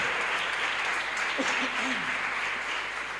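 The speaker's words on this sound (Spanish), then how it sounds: "¿Cuántos le pueden dar un aplauso al Señor?" A church congregation claps steadily through a sermon break, even, moderately loud applause with a brief voice rising faintly underneath midway.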